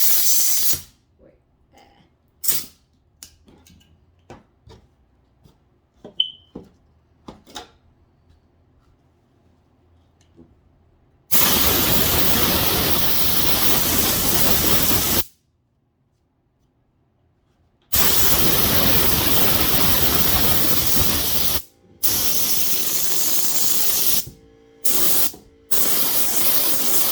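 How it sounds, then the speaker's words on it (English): Faint clicks and taps give way to long bursts of hissing spray glue from an aerosol can, several sprays of a few seconds each separated by short pauses, while repairing a wheelchair armrest. "you could just spray a little glue to hold it in place"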